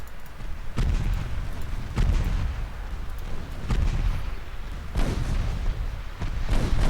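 Warship artillery in the naval video game Ultimate Admiral Dreadnoughts, heard as repeated deep booming salvos about every second or so over a constant low rumble of battle.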